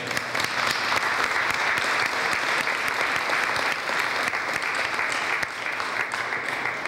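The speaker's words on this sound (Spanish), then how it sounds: "y un fuerte aplauso." A church congregation at a priest's consecration in Nacaome breaks into loud, sustained applause, a dense unbroken roar of many hands clapping for several seconds before easing slightly near the end.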